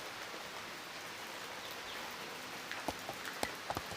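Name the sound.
drizzling rain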